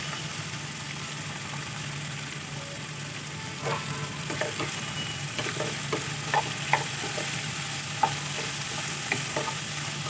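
Ivy gourd fries in a pan with a steady low sizzle, while scattered scraping and tapping knocks from stirring come and go, close and fairly quiet.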